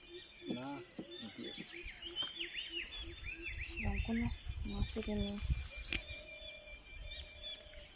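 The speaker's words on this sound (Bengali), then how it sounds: "বিভিন্ন প্রজাতির পাখির ডাক কিন্তু এই সুন্দরবনের সাইডে শোনা যায়" Assorted bird calls ring out in the Sundarbans in the morning: varied chirps, whistles and short trills come and go in bursts over a steady high insect-like hiss, with a single drawn-out note near the end.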